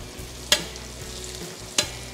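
Thinly sliced chicken fries in a pan with paprika, giving a steady close sizzle broken by two sharp utensil taps against the pan.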